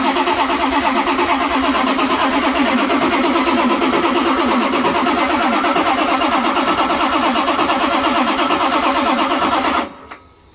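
A 1970s Pro Stock 426 Hemi with 16 plugs, dual distributors and twin Dominator carburetors fires up and runs with a loud, steady, rough, chattering roar for about ten seconds before cutting off abruptly.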